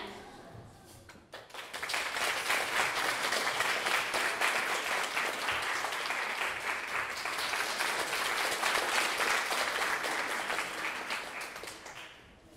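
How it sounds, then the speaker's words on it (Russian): Sustained audience applause at a children's choir anniversary concert, a dense steady wash of many hands clapping that swells in after a brief quiet start and holds for about ten seconds before tapering off. "аплодируют"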